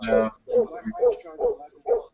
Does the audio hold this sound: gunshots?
no